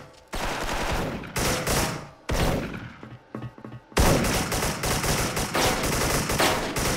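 Rapid automatic gunfire in the online shooter Special Force, loud sustained bursts broken by short pauses, close and dense, with no voices over it.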